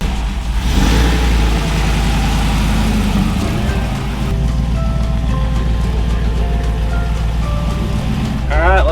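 The engine of an FJ45 rock crawler runs steadily at a rumbling idle, close and loud, with some light revving and people talking over it.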